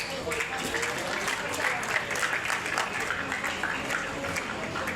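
An audience applauds at a school birthday anniversary function, a dense, continuous roar of many clapping hands at even loudness throughout with crowd noise mixed in.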